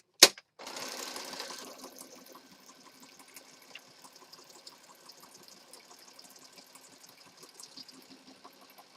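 A sewing machine stitches junk journal pages, starting with a sharp click, then a brief buzz of fast running before settling into a faint, steady rapid chatter of the needle, close by with no talk.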